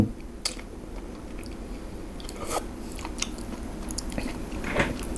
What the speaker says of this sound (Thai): มาครับทุกคนมากินตำเส้นเล็กกันนะครับทุกคน